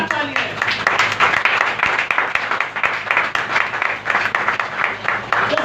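An audience at a Hindi-language Christian gathering clapping loudly and rhythmically together, a dense, steady wash of hand claps filling the whole stretch, close and sustained.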